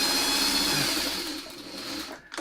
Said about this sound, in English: So we want to keep sewing it just so we get some really sharp points.